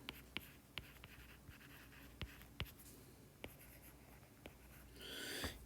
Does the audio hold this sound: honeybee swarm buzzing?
no